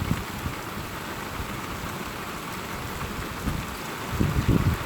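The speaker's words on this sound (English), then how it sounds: "It's raining." Heavy rain pours down steadily outside a house in Scotland during a thunderstorm, a dense continuous hiss with a few low rumbles near the end and no talking.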